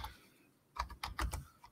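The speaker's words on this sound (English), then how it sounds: "I'll type that in." Quick typing on a computer keyboard, a short burst of close, crisp key clacks in a fast irregular rhythm after a brief quiet start.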